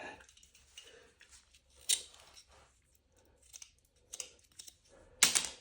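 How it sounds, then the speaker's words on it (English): A pencil being sharpened by hand while marking out a curved border for flooring, heard as a few separate scraping, crunchy strokes with quiet gaps between them. "Sharpen the pencil."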